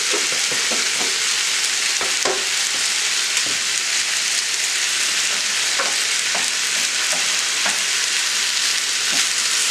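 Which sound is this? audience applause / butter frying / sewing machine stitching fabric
butter frying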